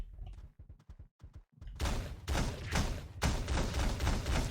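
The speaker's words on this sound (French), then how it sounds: "Oh le shotgun x2" Double-barrel shotgun blasts in the top-down game Teleglitch: a few sharp separate thumps, then a dense, loud burst of overlapping gunfire and explosions that runs to the end.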